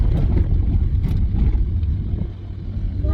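A car drives along the road, its engine and road rumble a steady low drone heard from inside, fairly quiet with no talk.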